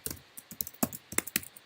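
Keys clatter on a computer keyboard as a short command is typed at a Linux terminal, a close run of irregular clicks and taps with brief pauses between bursts.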